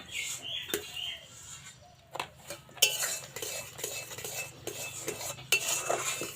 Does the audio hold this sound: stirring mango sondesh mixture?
yes